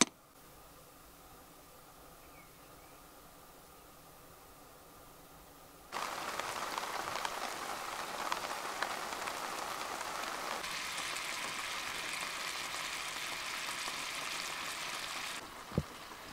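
Rain patters steadily on a tent overhead in Wales, faint at first, then a heavier, denser downpour sets in and keeps drumming.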